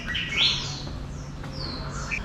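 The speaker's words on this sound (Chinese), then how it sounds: "即使在这种很窄的巷子里面，脑袋顶上就是有鸟叫声" Birds chirp and tweet overhead in a narrow, quiet alley of a Guangzhou urban village, a few bright calls over a low ambient hum.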